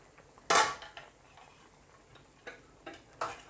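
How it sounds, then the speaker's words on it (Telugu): A metal lid lifted off a steel pot of simmering tamarind pulusu with shrimp and okra, giving one sharp clatter followed by several lighter taps and clinks in a quiet kitchen. "ఇప్పుడు ఒక్కసారి మూత తీసి చూద్దాం."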